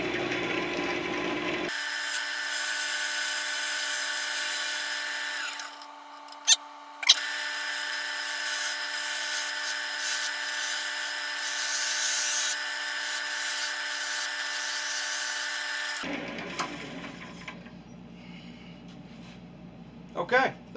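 A lathe tool scrapes out the bottom of a chestnut oak bowl, making a sustained hissing, rasping whine that breaks off briefly in the middle and stops near the end.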